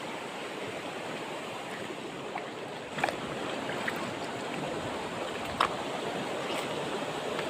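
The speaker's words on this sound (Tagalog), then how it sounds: "ilog na nakapalibot dito. Yan. Isang daluyan ng ilog." Steady broadband rushing of flowing river water fills the whole clip, with a couple of faint knocks or splashes around the middle.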